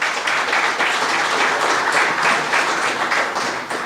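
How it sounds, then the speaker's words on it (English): An audience at an automotive security conference applauds the event sponsors, a dense, steady wash of clapping filling the hall for several seconds with no talk over it. "So round of applause for the sponsors."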